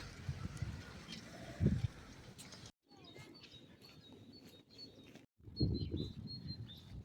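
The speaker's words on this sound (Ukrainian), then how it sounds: "птахи співають так класно" Spring birdsong near a cherry tree, with faint, scattered high chirps and calls over low rustling and a few louder nearby noises, including what may be bleating, with brief drops to near silence.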